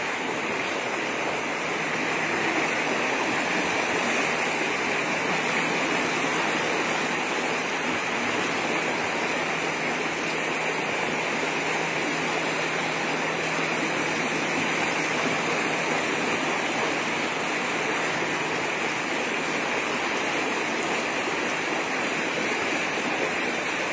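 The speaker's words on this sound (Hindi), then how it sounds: "यहाँ पे बालापुर तालाब का पानी आ रहा है।" Floodwater from Balapur lake rushes through a Hyderabad street after heavy rain, a loud, steady roaring wash that holds unbroken and close for the whole stretch.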